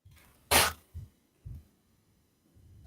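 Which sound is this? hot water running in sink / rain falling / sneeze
sneeze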